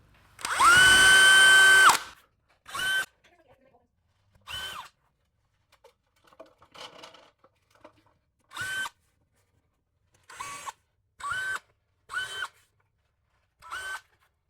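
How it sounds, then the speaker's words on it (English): A power drill pre-drills seven screw holes while a mini split is being installed, one long whirring burst followed by a series of short, separate drill pulses with quiet gaps between. "I'm gonna drill 7 holes and pre-drill them"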